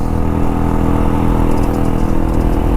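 A fully modified race-spec Hero Impulse motorcycle running a Karizma engine and a custom-made exhaust drones steadily and loudly up close, a constant engine hum with rattly texture and no pauses.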